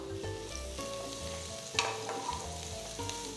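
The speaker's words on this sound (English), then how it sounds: "Saute the onions and garlic." Finely chopped onions and garlic sautéing in butter in a pan for Mexican rice, a soft, steady sizzle with occasional stirring clicks under faint background music.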